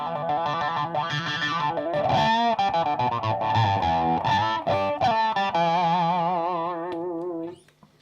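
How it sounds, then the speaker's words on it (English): Electric guitar through a Dunlop Mini Crybaby wah pedal on a clean tone, chords and lines sweeping through vowel-like filter swells, loud and continuous before fading out at the end. "let's start off with a clean tone and a bit of wah on the Mini Crybaby"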